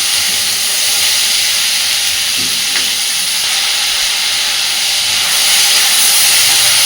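Potato and onion frying in a pan give off a loud, steady hiss and sizzle that holds evenly throughout, close up with no voices.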